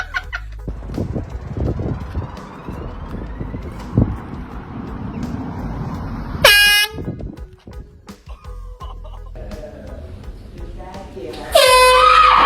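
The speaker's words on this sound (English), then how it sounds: "Air horn prank on girl best friend." Air horn blasted as a prank in a store, two sharp loud bursts standing out over people talking and background bustle.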